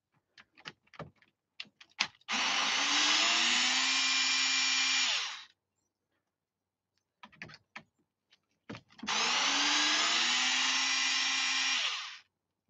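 A power screwdriver backs out screws during crash repair on a vehicle: a few light clicks and taps, then a sustained whirring drive for about three seconds, a pause with more taps, and a second equally long run.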